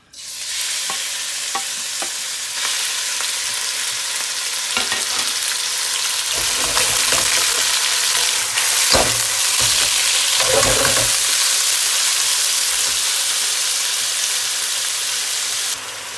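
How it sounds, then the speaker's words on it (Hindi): Chicken pieces dropped into very hot oil sizzle and fry loudly and steadily for the whole stretch, with occasional stirring scrapes and bumps from a stir fry noodle dish being cooked. "हॉट ऑयल में, बहुत गर्म ऑयल में आपने चिकन ऐड करना है"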